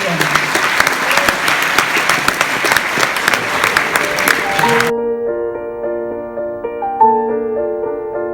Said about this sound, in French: je crois qu'on peut tous les applaudir